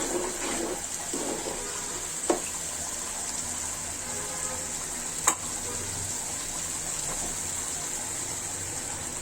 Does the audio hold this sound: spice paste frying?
yes